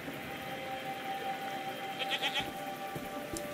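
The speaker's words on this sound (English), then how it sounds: "What are these strange goat-like creatures? Are they simply goats?" Goats in the video game SEASON: A letter to the future let out a brief, faint bleat partway through a soft, hissing outdoor ambience with steady tones in the background.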